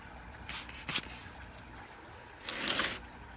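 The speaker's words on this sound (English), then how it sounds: "spray it with my pest concoction." Short hissing bursts from a spray bottle misting homemade pest spray onto a plant, a quick cluster of pumps followed by a longer spritz after a pause, close and fairly soft.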